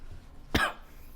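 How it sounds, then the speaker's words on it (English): A single close, sharp cough from a man lecturing with a sore throat, one short harsh burst standing alone in a quiet room. "I will have a little bit sore throat, so coughing from time to time."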